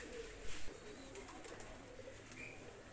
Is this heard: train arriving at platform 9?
no